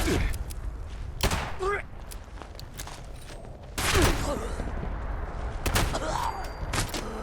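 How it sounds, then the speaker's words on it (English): A combat shotgun firing in Fallout 76, several loud, punchy blasts spread irregularly across the span, each with a short ringing tail, with speech in between. "Combat shotgun."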